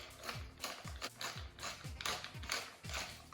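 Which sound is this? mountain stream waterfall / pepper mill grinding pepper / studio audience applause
pepper mill grinding pepper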